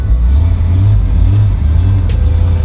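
A 1969 Chevrolet Camaro SS with a Hurst shifter accelerating on a test drive, its deep, loud engine rumble droning steadily with small rises in pitch, heard from inside the car.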